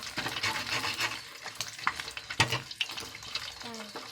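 Food fries and is stirred in a pan, with a sputtering sizzle under repeated scraping and clicking of the utensil, fairly close and moderately quiet.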